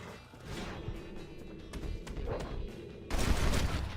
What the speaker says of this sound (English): Usually 3 shots are more than enough.